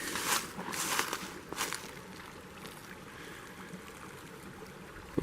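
A fairly substantial forest stream flows steadily along a wooded trail as a soft, continuous wash, with a few louder rustles and footsteps near the start.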